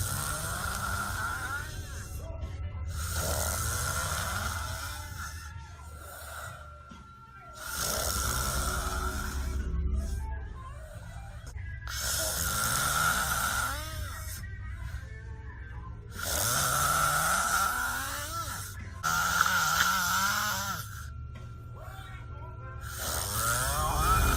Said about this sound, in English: the snore video